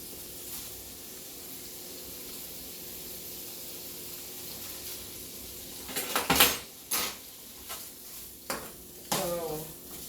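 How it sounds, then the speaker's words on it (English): Smoked sausage browns in a pot with a faint, steady sizzling hiss, then a run of sharp clanks and scrapes from stirring with a utensil near the end. "what I am going to do is just brown this sausage."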